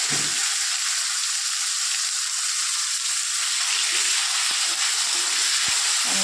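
Chopped tomato hits hot oil with fenugreek in a pan, raising a loud, even hiss of sizzling that holds steady from start to finish, broken by a couple of faint utensil clicks.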